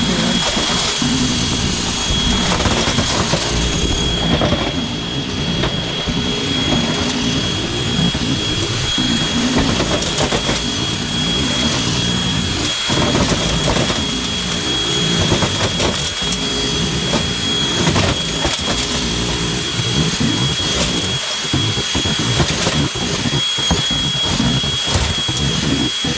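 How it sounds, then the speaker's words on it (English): Electric leaf blower roaring steadily and loudly for a long stretch, blasting kidney and scarlet bean chaff out of a garbage can, with a few brief thumps and dips in the rush of air. "leaf blower, electric leaf blower, to blow those out in just a minute."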